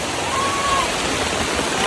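Heavy rain and gusting wind at an outdoor vegetable market in Surat, a steady loud broadband rush with no breaks, close and filling the whole clip.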